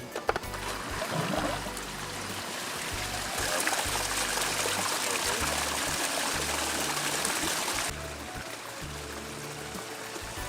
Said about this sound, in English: Let's do this, let's get the water flowing.